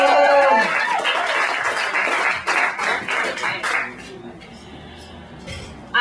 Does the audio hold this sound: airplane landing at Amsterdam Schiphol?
no